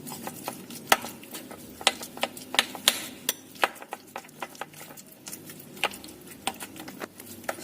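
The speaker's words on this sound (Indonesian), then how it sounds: "Aduk sampai semuanya tercampur." Mashed tofu and egg white being stirred by hand or spoon, giving soft irregular wet taps and clicks at a close distance, with no voices.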